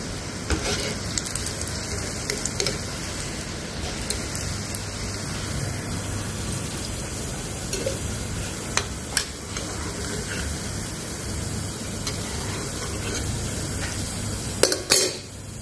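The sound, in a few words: deep-frying shankarpali sweets in oil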